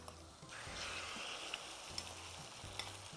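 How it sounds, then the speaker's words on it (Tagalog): An egg fries in an electric skillet, giving a steady, close sizzle and crackle that runs throughout with a few sharp pops and no talking. "then I'm going to fry my egg"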